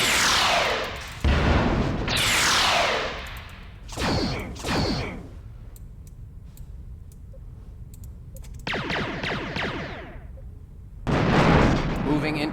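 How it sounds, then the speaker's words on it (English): Starship torpedoes launch in the game Star Trek: Bridge Commander: several loud, sweeping blasts that fall in pitch, with a quieter, busier stretch between the bursts. "Lining up forward torpedo tubes."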